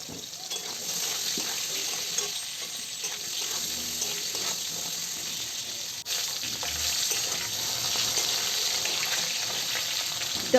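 Potatoes frying in oil with black cumin seeds for a rohu fish curry, a steady, moderately loud crackling sizzle that runs evenly throughout, with faint utensil taps and no talking.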